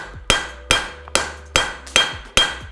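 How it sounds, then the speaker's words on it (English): A hammer strikes a horseshoe clip at the anvil's edge, forging extra material into the clip's base: six sharp, ringing metallic blows at a steady rhythm about every 0.4 seconds, loud and close with no talking. "Put the shoe over the edge of the anvil like normal, strike into the base of the clip"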